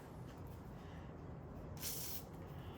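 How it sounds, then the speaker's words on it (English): A short burst of WD-40 from a spray can during engine work on a Nissan Frontier, a single loud hiss of about one second rising over steady background noise. "I'm gonna get a little bit of a WD-40"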